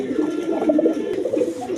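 A pair of red Gorra pigeons cooing nearby, a continuous warbling low coo with rising and falling pulses throughout, fairly loud and close with no talk over it.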